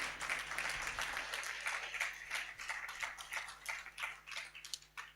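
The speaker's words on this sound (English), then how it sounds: "Please, a round of applause for" An audience at a book launch event claps for an arriving ambassador, fairly faint, thinning applause made of distinct individual claps that grow sparser toward the end.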